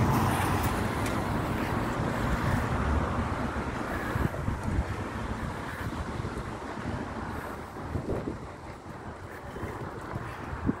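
Wind buffets the microphone outdoors beside a construction site ahead of a building's demolition, a steady loud rumbling roar with no talk.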